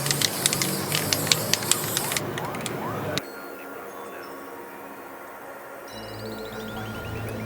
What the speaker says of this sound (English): The final step is a layer of clear coat.